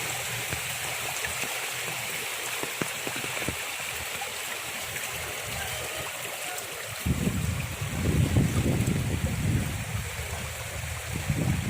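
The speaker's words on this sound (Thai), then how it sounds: "น้ำไหลแรงมาก" Strong floodwater rushes across rice fields after a storm in Roi Et, a steady close roar of flowing water, growing louder and more turbulent in the second half with no talking.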